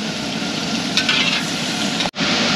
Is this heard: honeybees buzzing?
no